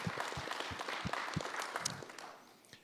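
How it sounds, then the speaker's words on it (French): An audience at a public town meeting in Edmundston gives a short burst of applause, with scattered individual claps fading out near the end. "on peut lui donner une bonne main d'applaudissement"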